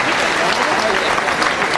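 Boxing crowd at a fight between Damaen Kelly and Jose Lopez Bueno applauding, a loud, dense, steady wash of clapping and cheering that fills the arena without pause.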